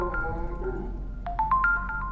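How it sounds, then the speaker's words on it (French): Ringtone in a horror video game, a short repeating electronic ring of rising beeps over a low steady hum, coming in partway through the clip, fairly faint. "La sonnerie est oppressante."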